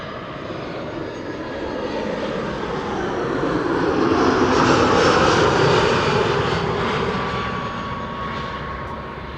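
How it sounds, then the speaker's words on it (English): An easyJet Airbus A319 arriving at Amsterdam Schiphol Airport sends out a steady, broad jet roar that builds to a peak midway as it passes, then slowly fades with a faint high whine on top. "EasyJet A319 arriving from Prague"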